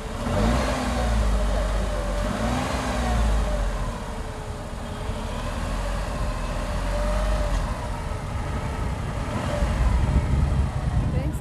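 A Tata Tigor XZ car engine idles and then rises in a sustained rev that holds and swells, loud and close, with a voice talking over it.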